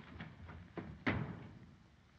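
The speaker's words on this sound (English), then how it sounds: "You shut the door." A door pushed shut indoors, a few soft knocks and creaks building to one firmer thud near the middle, then quiet room tone, no one speaking.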